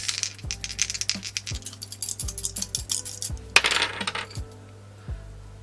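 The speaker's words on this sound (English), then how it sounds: "it's roll the dice, baby." Several dice rolled and tossed onto a hard surface during a cash-stuffing savings challenge, giving a run of sharp clattering taps and bouncing rattles, close and fairly loud, with no talking.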